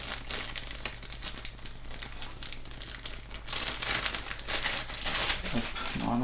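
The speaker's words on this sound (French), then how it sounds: "On va déballer." Packaging crinkling and rustling close up while unboxing a cable clip accessory for a BenQ GW2765HT monitor, with continuous plastic and paper crackles growing louder toward the end.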